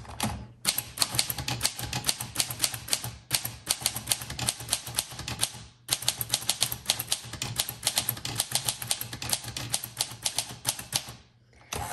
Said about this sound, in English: You hit margin release and you can keep typing.